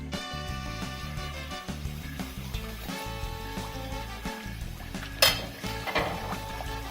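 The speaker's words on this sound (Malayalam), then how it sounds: "ഓരോ തവി നമുക്ക് ഇതിലോട്ട് ഒഴിച്ചു കൊടുത്ത് നെയ്യപ്പം ഉണ്ടാക്കിയെടുക്കാം" Neyyappam batter ladled into hot oil and frying, a continuous sizzle under a steady hum, with a brief sharp metallic clink from the ladle partway through.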